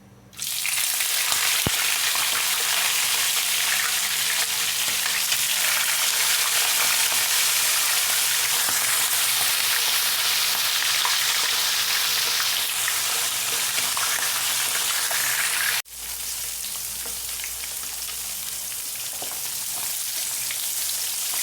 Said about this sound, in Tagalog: Gagamit tayo ng cooking oil pang prito.